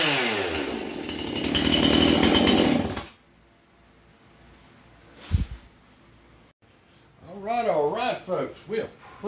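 Husqvarna 350 chainsaw engine revs hard and loud at close range for a few seconds, then cuts out; someone speaks afterward.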